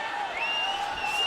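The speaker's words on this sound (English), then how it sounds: "The crowd trying to get behind John Cena." A wrestling arena crowd cheers and applauds for John Cena, a steady dense wash of roaring fans with faint sustained whistling tones running through it.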